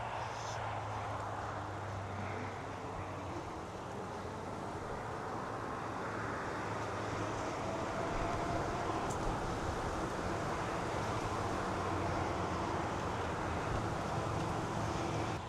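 A Mokwheel Obsidian ST full-suspension e-bike riding at its 20 mph throttle-limited top speed outdoors: continuous rushing wind noise with a low motor and tyre drone, steady and loud throughout.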